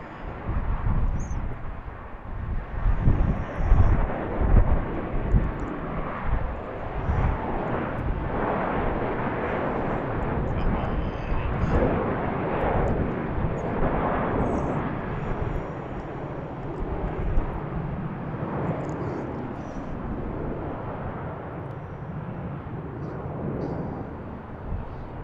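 A departing airliner at BWI airport roars steadily at a distance, a broad, rumbling jet noise that swells early on and then holds as the plane climbs away.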